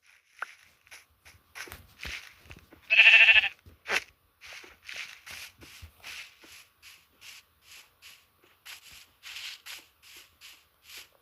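One sheep lets out a loud, close, wavering bleat amid a run of soft shuffling steps and scuffs that patter on steadily before and after the cry.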